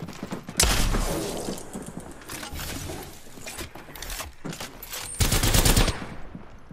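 Automatic weapon fire from Apex Legends: a loud, rapid burst near the start and another close burst toward the end, with quieter rattling, thuds and clicking mechanisms in between.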